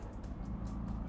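A McLaren sports car drives at Elvington Airfield, its engine a steady, fairly distant motor hum with a low rumble and faint pulsing, with no talk over it.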